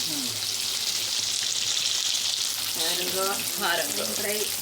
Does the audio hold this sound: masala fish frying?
yes